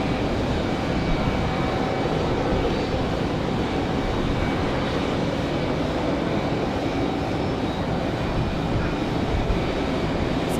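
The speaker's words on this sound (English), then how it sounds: "I think this one's the Republic Airways back to Boston" A Republic Airways Embraer E175 jet bound for Boston moves at Raleigh-Durham airport on a windy day, giving a steady, moderately loud engine rush mixed with gusty wind noise throughout.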